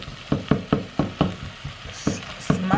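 Wooden spoon mashing softened tomatoes in a pork stew pot, a run of about ten dull, regular knocks and squelches close by, with faint sizzling underneath and no talk.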